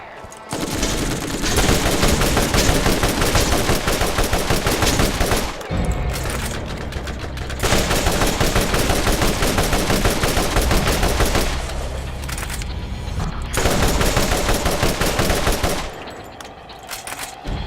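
Rapid automatic gunfire from a drum-fed gun in the video game Borderlands rattles in long loud bursts, broken by brief pauses.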